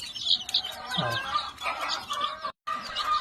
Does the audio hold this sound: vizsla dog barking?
no